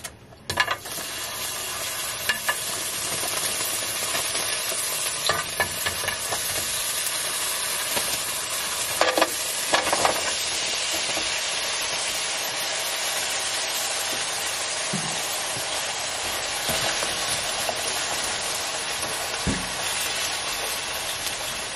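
Shrimp fry in a pan with a steady, bright hiss of oil that carries on without a break, broken only by occasional faint knocks and clinks, with no voice.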